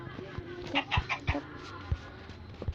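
A chicken in the Minecraft video game clucks in a quick series of short, close, repeated calls, with faint background game sounds.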